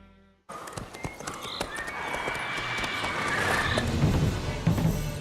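Roach, a horse in the video game The Witcher 3, galloping: a steady clip-clop of hooves builds in loudness after a brief silence, with whinnies and scattered game sounds layered over the running.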